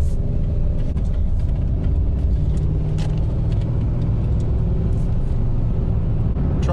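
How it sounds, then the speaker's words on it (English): An old truck drives on a back road east of Ocala, with a loud, steady interior rumble of engine and road noise and occasional knocks and rattles, and no talking. "Try to take it easy on this old truck, man."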